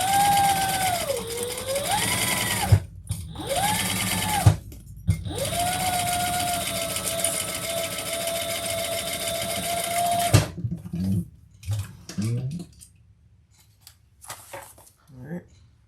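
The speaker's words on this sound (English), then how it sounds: "we're going to stitch that together" A home sewing machine runs in long steady bursts, stitching fabric pieces together for a Joy Bag, with brief pauses between runs, then stops as handling sounds and a few spoken words follow near the end.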